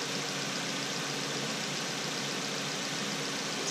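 Steady, even idle of a 2013-2019 Nissan Versa Note engine after a CVT transmission swap, a constant low hum with no knocks or speech, close and moderately loud throughout.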